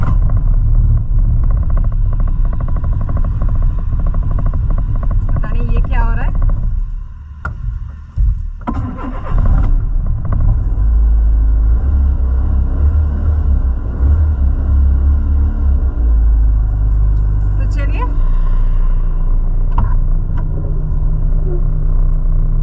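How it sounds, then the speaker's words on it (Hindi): A car with a weak battery is started. A heavy, close, low rumble of the engine runs throughout, briefly drops out, then returns stronger and keeps running steadily. "लेकिन तो चलिए गाड़ी को स्टार्ट करते हैं।"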